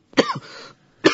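A man coughs once, then clears his throat and coughs briefly again during a doctor's examination scene in a Turkish radio drama, close and dry with no other sound.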